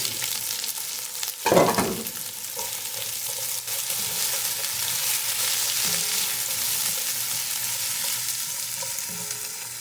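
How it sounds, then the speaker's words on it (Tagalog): Onions drop into hot oil in a pan for tanigue sinigang with a loud burst of sizzle, then settle into a steady, close frying hiss that runs throughout with faint stirring. "Add the onions."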